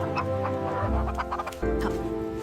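A farmer's hen clucks in a few short, close calls over a steady music bed, with no voices.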